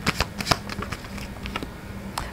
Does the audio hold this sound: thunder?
no